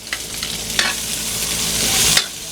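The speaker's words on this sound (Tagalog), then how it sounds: "gisa-gisa lang natin yan hanggang lumambot na sila" Onions sauté with garlic in a pan for pancit guisado, making a dense, loud sizzle with a few quick scraping stirs, close and continuous throughout.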